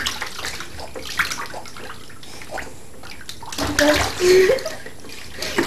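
A little girl pouring water over herself in a bath, with splashing and pouring water sloshing close by and swelling loudly toward the end, while an adult and the child chat over it.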